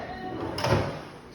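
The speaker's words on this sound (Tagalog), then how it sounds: "Drawer." Drawer of a TV rack sliding shut, a short scraping glide ending in a soft thump, close by, with faint background sound.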